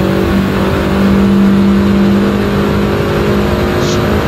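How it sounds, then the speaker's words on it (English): Engine roar of a small car in a racing video game, running steadily near its top speed with a sustained, loud drone and steady tones throughout, no talking over it. "This poor little car doesn't have quite the top end that I'd like it to have."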